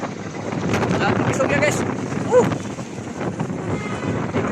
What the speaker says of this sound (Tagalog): Pansin nyo, grabe lakas ng hangin.